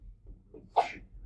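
A single short sneeze bursts out sharply in a quiet indoor classroom setting, brief and fairly close, with no talking around it.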